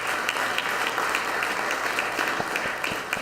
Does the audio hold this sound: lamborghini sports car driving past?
no